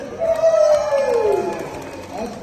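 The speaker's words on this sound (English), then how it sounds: "So round of applause for the dancers." A dance-show audience briefly cheers and claps for the dancers, a short burst of crowd noise with a rising whoop over chatter.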